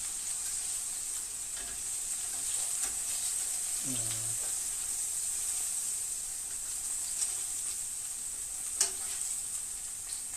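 Meat for Hungarian-style stew frying in a pan, a steady quiet sizzle with occasional stirring clicks and a brief voice partway through.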